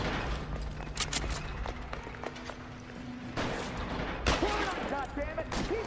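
Shootout gunfire in the L.A. Noire video game, with repeated sharp shots and bursts scattered across the clip amid busy game noise, one loud crack standing out near the end, and voices talking over the action.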